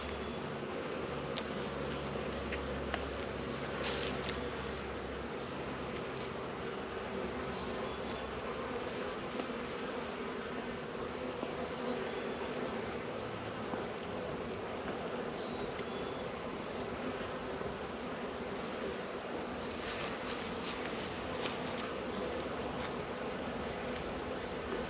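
Bees in a moldy, weakened spring beehive in Michigan, full of dead bees, give off a steady, dense hum that holds at an even level all the way through, close by and alone.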